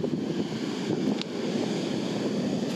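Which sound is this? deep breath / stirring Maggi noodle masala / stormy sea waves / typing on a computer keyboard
stormy sea waves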